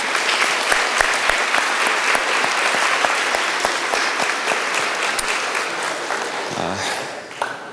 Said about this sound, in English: let's give you a round of applause to these kids